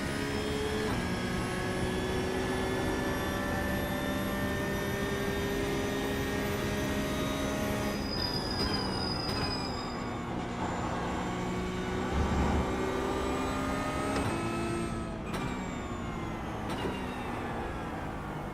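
Porsche Cup race car engine in iRacing at the Nürburgring 24h, a loud steady engine whine with rising pitch sweeps through the gears and sharp drops on shifts around the eight- and fifteen-second marks, heard without talk.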